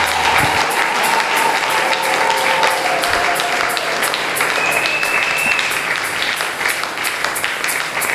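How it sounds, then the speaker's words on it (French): A church congregation claps together during a special worship service, a steady, dense wash of applause and cheering that fills the whole stretch with no break. "Tobetelela lokolo maboko makasi."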